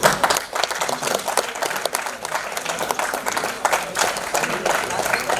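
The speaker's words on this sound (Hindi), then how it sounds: "जरा जोरदार तालियां हो जाए" A crowd claps loudly and continuously at a grand musical tribute evening marking Balasaheb Thackeray's 98th birth anniversary. The dense applause fills the room for the whole stretch, with voices mixed in beneath it.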